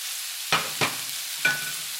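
Asparagus and chicken stir-fried in a pan: three distinct scraping strokes of a utensil against the pan over a faint, continuous sizzle, with no talking.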